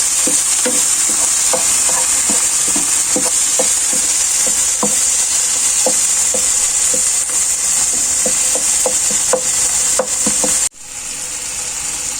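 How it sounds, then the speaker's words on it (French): A spoon stirs macaroni pasta with tellines clams in a pan. Close, steady scraping and clicking strokes repeat over a continuous sizzling hiss, with no talking. "Je mélange."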